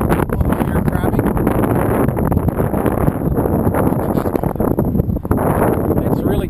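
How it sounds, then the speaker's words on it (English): Gusty high wind buffets the microphone around a T-33 jet aircraft, a loud, continuous rumbling roar that surges and dips with each gust. "It's really gusty right now."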